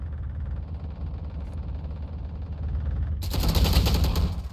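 Rapid gunfire from a Valorant match, a low rumbling rattle of shots that swells into a louder, brighter burst near the end, close and dense.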